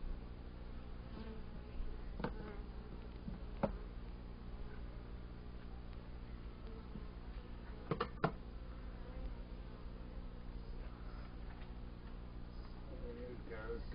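Honey bees buzz around an open beehive, a faint, steady insect drone running throughout with a few light knocks and clicks, heard fairly quiet and close.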